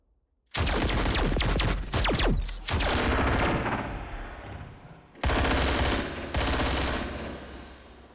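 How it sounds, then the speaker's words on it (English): Loud automatic gunfire in the video game Crunch Element Alpha: rapid bursts and rattling volleys fill most of the stretch, broken by short pauses, with no one talking. "Are you shooting at me?"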